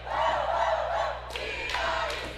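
A student section cheering at a girls basketball game, a loud sustained crowd roar with shouted chanting rising and falling in waves, heard from within the gym.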